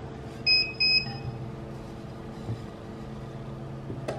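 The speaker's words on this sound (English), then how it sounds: "It gives you a little beep that's ready." Heat press at temperature sounding its ready signal: two short, high electronic beeps in quick succession, fairly clear over a low background hum, then quiet room noise.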